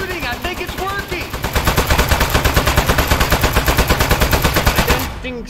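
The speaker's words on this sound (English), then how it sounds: "Keep shooting, I think it's working!" Rapid machine-gun fire from the video game Aperture Desk Job rattles in a loud, fast, evenly spaced burst lasting several seconds. A voice speaks briefly at the start.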